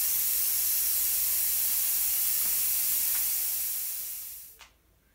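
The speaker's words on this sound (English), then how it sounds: "You don't want to let out the air too quick, because it can damage the small O-ring in there." Compressed air steadily let out of an EdGun Leshiy 2 air rifle, a long loud hiss that slowly fades and stops, ending with a small click.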